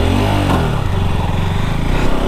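A 2022 KTM RC 200 BS6 sport motorcycle engine fires up and revs loudly at close range, its steady, throaty drone rising in pitch, with no voices over it.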